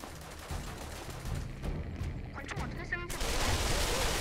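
Gunshots in Pavlov VR, a virtual-reality shooter, sound as a rapid flurry of close, sharp shots that build toward a dense burst, mixed with voices talking over the action.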